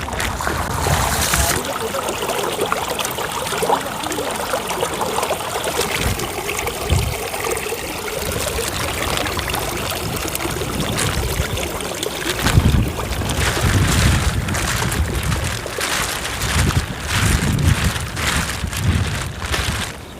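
A small stream runs through a Konkan village after monsoon rain, a steady wash of flowing and trickling water mixed with outdoor wind and scattered handling noises through the whole stretch.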